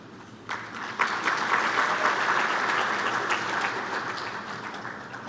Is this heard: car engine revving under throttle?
no